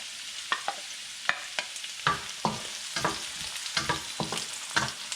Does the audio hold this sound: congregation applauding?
no